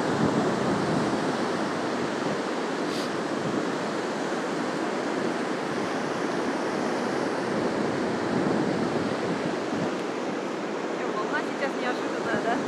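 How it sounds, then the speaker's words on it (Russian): Storm surf breaking on the central beach at Anapa after strong wind and rain, a steady broad roar of crashing waves with wind buffeting the microphone throughout, the surge swelling slightly as a wave runs up close. "Такие размашистые волны."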